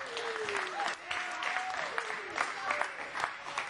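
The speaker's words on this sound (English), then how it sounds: "Let's give Jamie Watson a big round of applause." An audience applauds guest Jamie Watson at the close of an interview show: a continuous run of moderate clapping with a person talking over it throughout.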